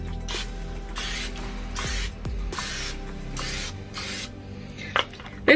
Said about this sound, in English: I'm just going to kind of spray over the tops of the tortillas